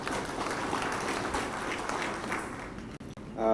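Symposium audience on cocoa research clapping for a keynote speaker, a steady room-filling round of applause that fades out near the end, followed by a brief gap and faint noise.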